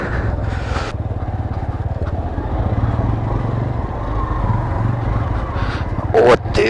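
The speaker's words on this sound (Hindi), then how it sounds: "तो ये है ठाकुर साहब की ड्रीम बाइक डोमिनार" A Bajaj Dominar motorcycle rides along a slow, congested road, its engine giving a steady low rumble throughout with a brief louder burst near the end, while people talk over it.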